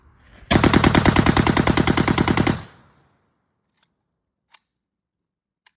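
An airsoft gun bump fires a rapid burst of about twenty close, loud shots at a paper target, then falls silent apart from a couple of faint clicks.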